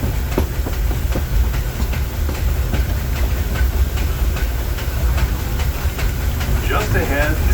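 Disneyland Railroad train running along its track past a jungle setting, a steady loud rumble of wheels on rails with rhythmic clicks and some hiss throughout.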